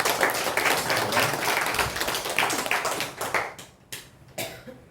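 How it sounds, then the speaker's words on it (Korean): Congregation in a church service applauding, a dense, steady clapping that thins out and tapers off toward the end with a few scattered final claps. "우리 수고분들 박수 한번 하겠습니다."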